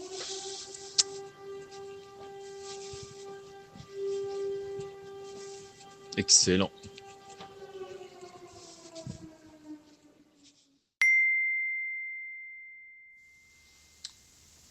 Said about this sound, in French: on laisse les auditeurs et les auditrices avec cette délicieuse sirène de Paris